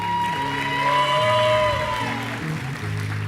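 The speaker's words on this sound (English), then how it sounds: "You can give a hand clap for them." A showcase audience cheers and claps for a singer's family, a loud burst of whoops and shouts with applause that swells quickly and then tapers off over a few seconds.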